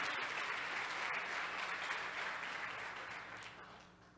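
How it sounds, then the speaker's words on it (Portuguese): A church congregation applauds in a sustained, dense wash of clapping from a crowd, holding steady before gradually fading toward the end. "Aplauda o Senhor, glorifica o nome dEle."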